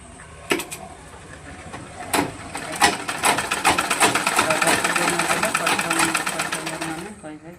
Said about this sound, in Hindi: हाफ इंच राउंड सिलाई करदे